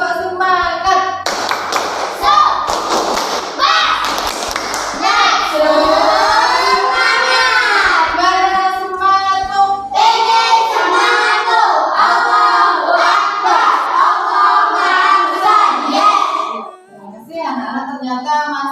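Schoolchildren in a classroom doing the tepuk semangat, loud group chanting over bursts of rhythmic hand clapping, repeated in patterned sequences.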